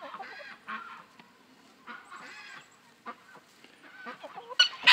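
Several geese honk and cackle in short, uneven bursts nearby, with brief quiet gaps and a sharper squawk at the end.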